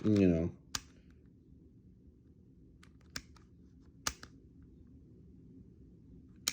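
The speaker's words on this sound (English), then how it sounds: "That little click there, every shot, it was doing it at the range" Faint, sharp clicks of a handgun's trigger resetting, a few isolated snaps spaced seconds apart over a quiet background, after a brief burst of voice at the start.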